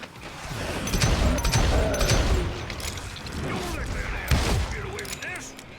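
Gunfire rings out repeatedly in the Wild West shooter Call of Juarez: Gunslinger, loud booming shots spread across the scene amid game sounds, with someone speaking over part of it.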